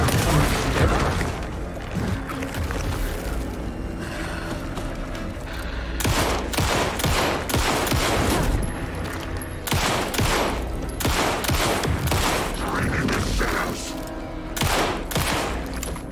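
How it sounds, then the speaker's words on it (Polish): Rapid shotgun blasts crack repeatedly over a dense, noisy Alan Wake 2 soundtrack, with blasts recurring throughout at an uneven pace. "Ostatni strzał z shotguna."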